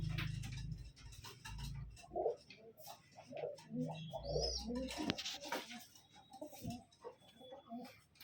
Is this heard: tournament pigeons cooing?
yes